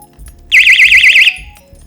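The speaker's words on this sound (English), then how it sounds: "You also have your alarm that's gonna be on there." A personal safety alarm from a safety kit emits a loud, piercing warbling siren, rapidly rising and falling in pitch, close by for under a second before stopping.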